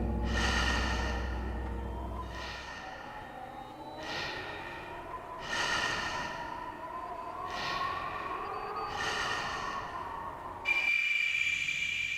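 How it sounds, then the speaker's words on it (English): Slow, heavy breathing in a video game repeats in long, eerie breaths about every one and a half seconds, over a low drone, ending with a sudden high tone. "You then start to hear breathing, revealing a figure behind you"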